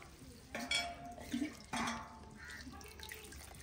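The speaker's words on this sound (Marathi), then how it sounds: "आता आपण त्याच्यामध्ये स्वच्छ पाणी टाकू सगळीकडे पसरू।" Clean water poured into a vessel of grated potato, with two splashing pours and some clinking of the container in a kitchen.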